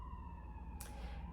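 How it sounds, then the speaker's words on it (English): A siren wails outside, faint and distant, holding a steady tone that runs through the whole clip beneath a quiet indoor background. "So more sirens."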